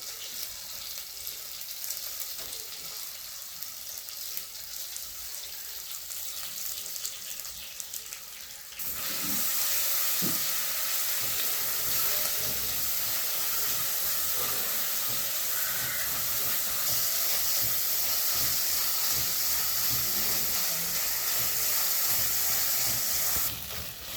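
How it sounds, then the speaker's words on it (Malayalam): Ginger-garlic paste sautéing in a pan for a fish curry: a steady hiss and sizzle that starts quieter, then swells louder at about a third of the way through and holds evenly, with no speech. "നമ്മുടെ ഇഞ്ചിയും വെളുത്തുള്ളി പേസ്റ്റൊക്കെ ഒന്ന് വഴണ്ടിട്ടുണ്ട്"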